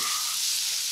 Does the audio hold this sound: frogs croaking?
no